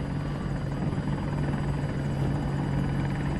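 A helicopter flies in Battlefield 2042, its rotor chop a steady, loud pulsing drone with an even engine hum throughout.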